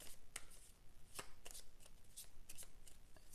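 Crisp, intermittent card snaps and slides as a tarot deck is handled and a card drawn, quiet and close with irregular flicks and a soft rustle between them.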